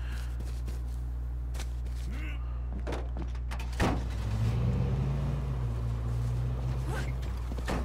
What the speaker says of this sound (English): I hear another car coming in.